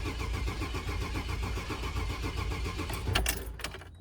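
A 2000 Chevy Express van engine cranks steadily with a no-start fault, a loud continuous rhythmic churn that stops abruptly near the end.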